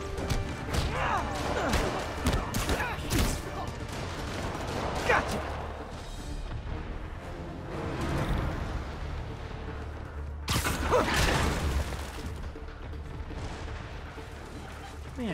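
Rockets and gunfire in the Marvel's Spider-Man Remastered video game: repeated crashes, booming blasts and sharp shot-like bangs pile up in a dense, noisy fight, with voices talking over parts of it.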